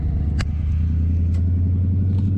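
A 1976 Dodge D100 pickup with a 440 V8 drives in second gear, its deep steady engine rumble loud and close inside the cab, with a few brief clicks and rattles.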